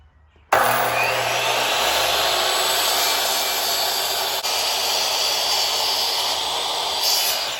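A miter saw spins up sharply and whines loud and steady while cutting wood pieces at a 22.5-degree angle, running continuously after the abrupt start with no talk.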